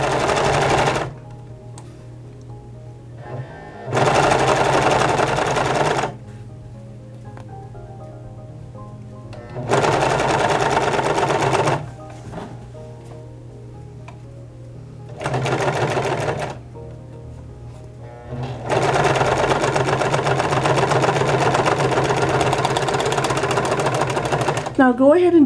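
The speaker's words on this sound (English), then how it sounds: "Serging seam in progress." A serger sewing machine stitches a pants seam in four loud, steady whirring runs of about two to six seconds each, separated by quieter pauses with a low mechanical hum.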